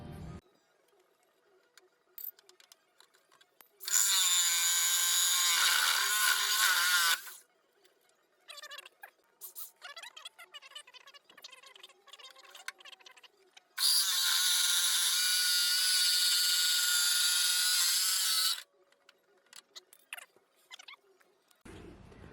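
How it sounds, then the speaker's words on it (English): A jigsaw fitted with a new cutting bit cuts through metal corner armor on a Jeep JKU in two loud bursts of about four seconds each, with quiet handling and clicks around them. "we're all set up again here with our jigsaw and our new bit, our new cutting bit here, so we can continue to cut that over there"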